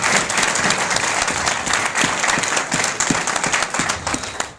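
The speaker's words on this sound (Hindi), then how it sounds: "आपने खुद के लिए ताली बजाओ।" An audience claps at a company event in India, dense sustained applause from a crowd, with sharper individual claps standing out throughout.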